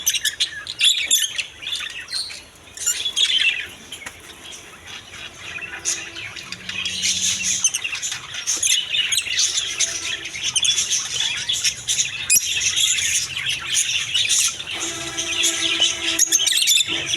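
Dense, continuous chirping and squawking from many lovebirds at a bird market shop in Kashinathpur, busy and fairly close, with no talking.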